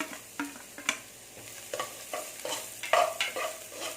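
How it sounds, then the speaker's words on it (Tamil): Small coconut pieces fry in ghee while being stirred, with intermittent scraping strokes over a soft, steady sizzle, close up and moderately quiet. "இது நல்லா பொன்னிறமாக வறுக்கணும்"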